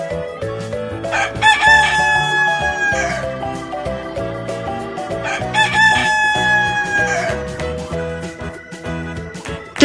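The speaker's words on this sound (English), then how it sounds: "Rooster." A rooster crows twice, loud and close, each a long rising-and-falling cock-a-doodle-doo, over a backdrop of cheerful music.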